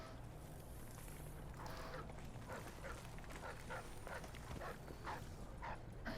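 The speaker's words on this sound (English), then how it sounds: "I heard barking, I didn't like it." A dog barks faintly in the Dishonored 2 video game, a few short, distant yelps rising over a low, steady background hum.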